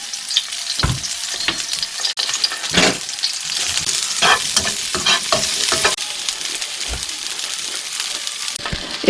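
Button mushrooms fry in olive oil with a loud, close, continuous sizzle, broken by repeated scraping stirs of the pan.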